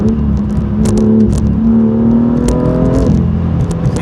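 A 2018 BMW M2 with M Performance parts in Sport Plus mode pulls hard from inside the cabin, its loud engine drone holding steady and climbing slightly in pitch as it accelerates.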